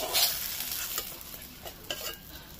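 Brinjal pieces frying in hot oil give a steady crackling sizzle, broken by a few sharp stirring scrapes, close and moderately loud with no talk.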